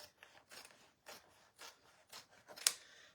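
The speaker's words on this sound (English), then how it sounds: "I'm going to go ahead and cut this piece of fabric here" Scissors snip through a piece of fabric in a quiet room, with several soft, evenly spaced cuts and one sharper, louder snip near the end, close and alone.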